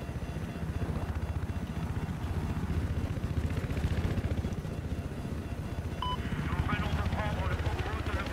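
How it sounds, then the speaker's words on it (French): An attack helicopter in Battlefield 4 on the Siege of Shanghai map throbs loudly and steadily with its rotor chop, close and continuous, with brief game effects near the end. "là j'ai un hélico d'attaque qui me suit"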